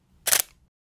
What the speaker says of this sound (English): the shutter will be opened longer so the camera can record more light